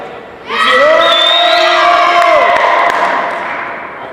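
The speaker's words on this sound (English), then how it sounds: "Can I hear you cheer?" A convention panel audience at a Sonic versus Mario debate erupts in loud, sustained cheering and whooping, surging suddenly and holding strong for a couple of seconds before fading, with high voices prominent.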